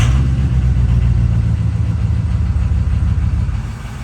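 A Ford 6.0 diesel truck engine runs with a steady, loud low rumble close by, easing slightly quieter toward the end, with no distinct cranking phase standing out.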